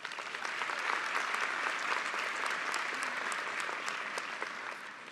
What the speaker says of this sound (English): I think we should just give that a real quick applause